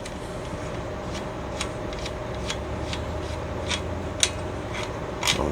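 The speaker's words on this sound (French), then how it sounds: "On voit qu'il y a des petits craquements, là. C'est que les dents mordent dans la fourche." A bicycle quick-release lever is tightened until its serrated teeth bite into the fork: small, sharp crackling ticks recur every half second or so over a steady background hiss, close and faint, with no talking.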